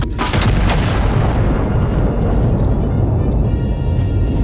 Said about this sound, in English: And fire the right barrel.